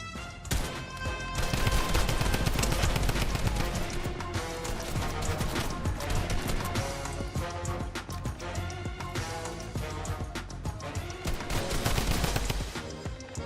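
Rapid, nearly continuous gunfire in the video game Fortnite, loud and dense, with overlapping shots and impacts filling the whole stretch and no voice above it.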